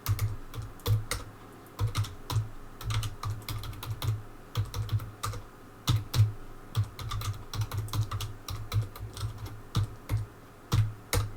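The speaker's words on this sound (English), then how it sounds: "I hope there's no holes in the way either, because I'm typing." Steady rapid typing on a computer keyboard during a game of Astroneer, dense runs of close clicking keystrokes with brief pauses, alone over a faint low hum.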